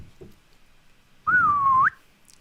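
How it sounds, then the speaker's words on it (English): A person gives a single loud whistle that holds steady for about half a second and then sweeps upward at the end, following a few faint soft sounds. "and then I just whistle really loudly"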